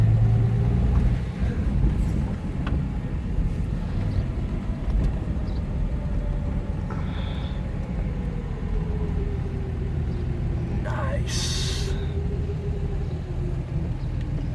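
A 1973 Plymouth Valiant's engine idles with a low, steady rumble up close, the idle rising slightly, with a few faint clicks and a brief hiss near the end.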